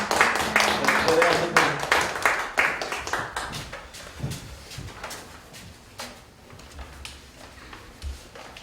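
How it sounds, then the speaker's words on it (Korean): Audience applause at a charity love concert, a burst of close, dense clapping that gradually thins into scattered claps and fades, with a voice speaking over it. "박수 한번 크게 부탁드립니다"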